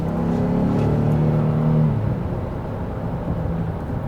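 A 2021 Honda Ridgeline Sport AWD pickup accelerates hard from inside the cab, its engine giving a loud, sustained droning rise in pitch that eases into a steadier cruising whir.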